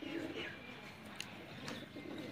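A teddy pigeon in Sialkot coos softly in a few gentle, throaty calls with brief chirps between them, fairly close against a quiet background.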